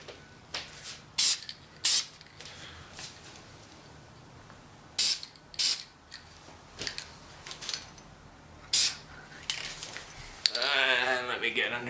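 Aerosol coating is sprayed onto rifle parts in short hissing bursts of about a second each, repeated a dozen times at close range, ending in a longer spray.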